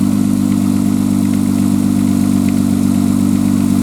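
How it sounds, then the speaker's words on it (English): Steady, loud idle of a 1995 Nissan Maxima engine shortly after a very cold start, a constant low hum without revving, heard close and alone. "The idle's gone down. That was a very cold start."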